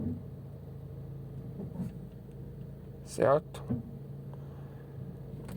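A car with an automatic transmission sits idling in drive, giving a low, steady engine hum inside the cabin, while a person talks over it and a brief, louder mechanical knock comes midway.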